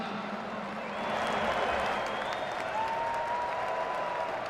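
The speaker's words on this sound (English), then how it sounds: "A big round of applause for our sponsors tonight." Stadium crowd at a college football bowl game breaks into sustained applause, a broad wash of clapping that swells after a second and holds steady, heard at a distance.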